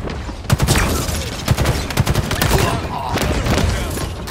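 Gunfire in a Halo video game: rapid bursts of automatic fire with repeated sharp shots and booms, loud and close, running almost continuously.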